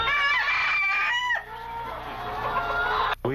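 Many chickens at a poultry hatchery in Fiji cluck and crow together in a dense, loud, continuous chorus, with a brief dropout near the end.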